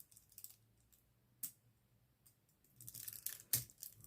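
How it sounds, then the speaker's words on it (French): A utility knife cuts into paper or thin sheet material while building a small Halloween house from nanoblock-style pieces: quiet scraping strokes and a couple of short, sharp snips, close and without speech. "Alors, je vais prendre mon cutter."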